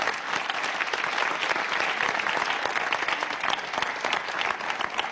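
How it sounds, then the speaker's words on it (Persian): A studio audience at a Persian-language comedy talk show claps loudly and continuously, dense steady applause that fills the whole stretch with no break. "که همه تشویقشون بکنم"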